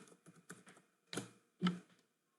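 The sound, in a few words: typing a command on a computer keyboard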